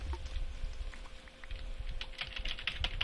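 Rapid computer keyboard typing during Minecraft play, a steady patter of close key clicks throughout with no talking.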